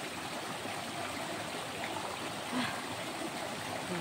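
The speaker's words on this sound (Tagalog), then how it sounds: "Sapa na yan." Water flows steadily in a stream, a soft continuous rush and trickle heard alone at close range and low level.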